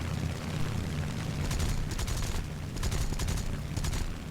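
War Thunder naval combat with landing craft under attack: clustered bursts of gunfire crackle over a steady low rumble, firing in several short volleys at a moderate distance.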